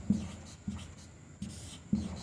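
Chalk or marker on a board during a maths lesson makes four faint, evenly spaced taps and scratches, quiet and close, with no talk.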